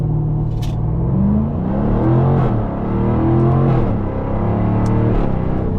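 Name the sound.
2024 Jaguar F-Type R75 V8 launch control acceleration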